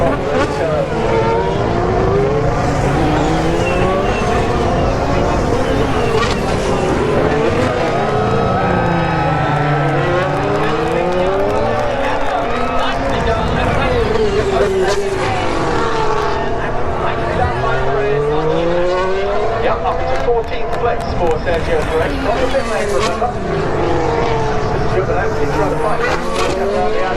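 Formula 1 race cars, a Ferrari among them, scream past a trackside spot at Turn 11 during a 2019 Grand Prix, engines rising and falling in repeated loud Doppler sweeps as cars pass one after another, with commentary running underneath.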